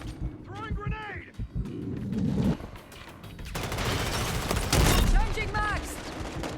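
Gunfire from Call of Duty Modern Warfare 3, bursts of rapid shots and heavier blasts rolling through the match, loud and close, with in-game voices calling out over the shooting.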